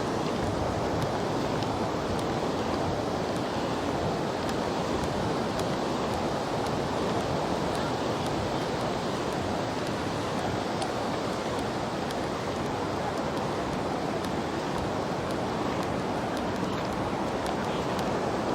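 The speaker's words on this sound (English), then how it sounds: "What do you think about the beach of Costa Rica, Tamarindo?" Ocean waves at Tamarindo beach in Costa Rica make a constant loud roar of surf mixed with gusting wind noise on the microphone, with no pause throughout.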